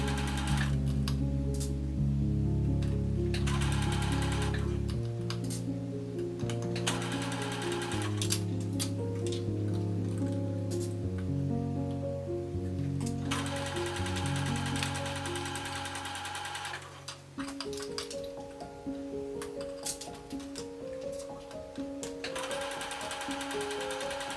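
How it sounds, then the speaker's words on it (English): A sewing machine stitches the pleated seam of a hanbok skirt, running steadily and close by with a fast, even mechanical rhythm. Its pitch and pace shift slightly several times along the seam, and no one speaks. "It's easier to sew from the pleated side as it's more convenient to control."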